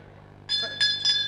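A street vendor's broken bell rings three short metallic, slightly harsh times in quick succession after a quiet moment.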